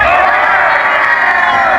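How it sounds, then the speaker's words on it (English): A team group at an outdoor team-building game howls and shouts together toward the opposing team, a loud, sustained mass of voices filling the whole moment. "we have to continue howling or shouting or showcasing our domination to the opposite team"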